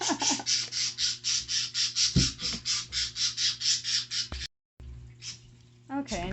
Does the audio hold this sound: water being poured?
no